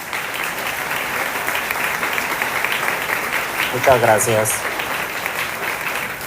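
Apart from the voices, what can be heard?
audience applause for a speaker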